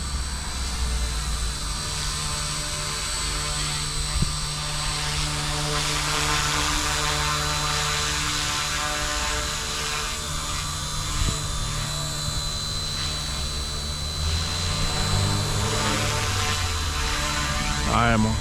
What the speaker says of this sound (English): It's a nice little heli.